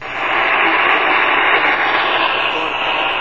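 Steady, loud hiss and crackle of shortwave static come from a Grundig G2 radio. The noise fades in at the start and holds as a constant rushing wash with no clear voice.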